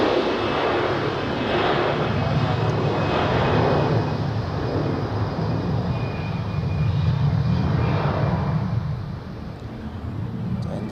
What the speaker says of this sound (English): on the runway we have an A320 to Vienna. Here we go in Star Alliance livery.